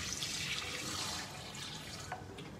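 Water runs and splashes into a sink as prawns are drained and rinsed, a soft, steady gurgling flow that eases slightly midway, with a few faint drips and no talk.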